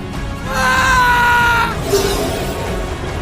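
A horrified scream, used as a sound effect in a Hindi horror story, rises loud and close for about a second, then trails off into a shorter, strained cry.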